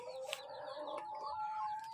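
Hens in a backyard coop cluck near the microphone while waiting to be fed, a steady run of soft, throaty calls with no pause over two seconds.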